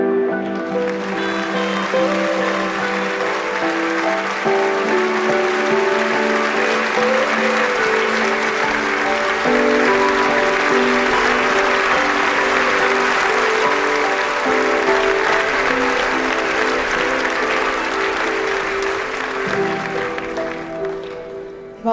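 Some 25,000 Aston Villa football fans fill Wembley Stadium with sustained applause for a minute of appreciation, a broad steady roar of clapping with crowd voices underneath, loud and unbroken throughout.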